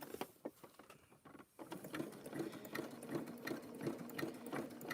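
Sewing machine zigzag-stitching over rope and fabric, a steady rapid mechanical patter close by after a brief pause near the start, running on alone without talk.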